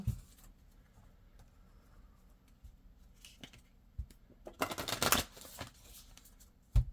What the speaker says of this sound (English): we're going to pull some oracle cards just to see what else comes out for you